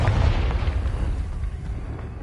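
A Confringo blasting spell goes off in Hogwarts Legacy, a deep booming explosion that hits hard at the start and then rumbles and fades away.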